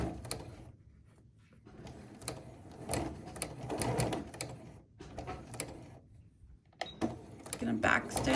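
A home sewing machine runs in short bursts, forward and then reversing to back stitch a blazer seam, with its motor whirring and the needle clattering close by, pausing between runs.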